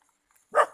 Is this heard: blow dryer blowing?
no